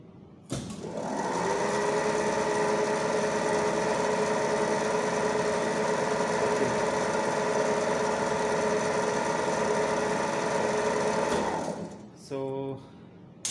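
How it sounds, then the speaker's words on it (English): A three-phase squirrel cage induction motor starts up and runs with a steady, even electrical whine and hum for about eleven seconds, then winds down and stops, followed by a brief clunk. "let's turn on the supply and turn on the DC supply, and let's turn on the motor."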